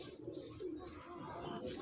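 Soft cooing from a Salety Bichoo pigeon repeats in low murmuring phrases, close by, with faint chirps and background noise throughout.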